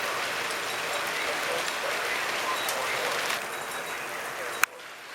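Wind and rain blasting during a windstorm in Tacoma, Washington, heard from just under cover as a steady, dense broadband wash of rain noise that suddenly drops off near the end after a sharp click.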